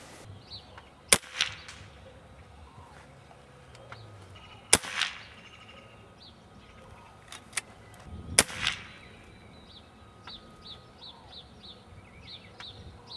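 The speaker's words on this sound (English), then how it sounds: "All right, now we're going to do a decibel sound test, the way that the gun would sound at the shooter's ear." An FX Cyclone air rifle fires three sharp, snapping shots a few seconds apart, heard from the shooter's position, with fainter clicks and light bird chirps in a quiet outdoor background.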